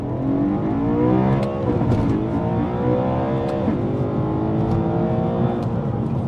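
A tuned BMW M3 E92 with DCT gearbox accelerates hard on a 70 mph road, its engine note climbing in repeated rising sweeps broken by quick gear shifts, loud and close with no talk.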